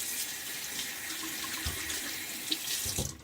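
Tap running cold water to pre-soak a shaving brush, a steady close splashing stream into a sink with a few brief clatters near the end and no talking.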